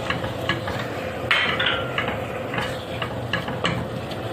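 Onions stirred with tail fat in a pot for a pot kebab, giving scraping utensil clinks and scattered taps over a low, steady sizzle with no talk.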